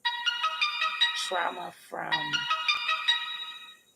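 A mobile phone ringtone plays a bright, repeating melodic pattern, loud and close, with a voice breaking in briefly partway through.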